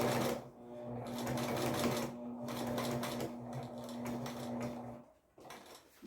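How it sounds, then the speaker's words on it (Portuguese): A sewing machine stitches a patchwork baby quilt with steady, loud motor whir and rapid needle chatter, pausing briefly twice and then stopping near the end, with no talk. "Vou costurar até o final da minha peça"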